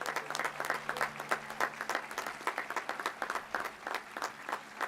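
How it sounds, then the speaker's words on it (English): An upper school commencement audience applauds steadily, a dense, even wash of many hands clapping at a distance for several seconds. "Just to keep yourselves in the mood, applaud that, please."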